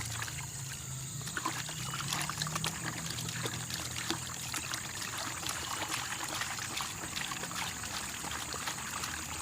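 Tapai yeast is stirred into water to dissolve it, giving a continuous soft sloshing and trickling with faint irregular clicks throughout, close but quiet and without speech.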